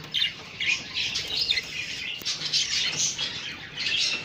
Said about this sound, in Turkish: Ayvinolarımız var, DF'lerimiz var, güzel kuşlarımız var.